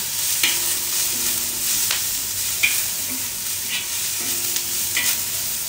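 Pumpkin pieces go into a hot pan and cook with a steady sizzle, broken by several sharp scraping stir strokes and clinks of a utensil against the pan at irregular intervals.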